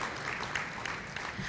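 Brief applause from an awards-event audience clapping for sponsors, faint and distant-sounding, steady patter with no talk over it.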